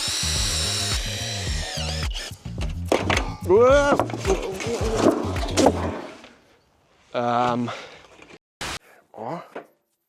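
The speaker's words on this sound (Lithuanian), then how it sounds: "Tai tam, kad prigręžti metalą į medį ir nereikėtų gręžti kažkokių tenais skilučių, mes turim specialius" A power drill drives self-drilling screws through sheet metal into wood, giving several loud whining bursts with rising pitch and thunks, then a pause and shorter spins; people talk over the work.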